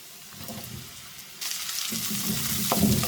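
Cubed onion, a medium-sized one, frying in a pan with chopped ginger and green chilies, a steady sizzle that swells louder as the pieces drop in and a spoon stirs them, with a scrape or two near the end.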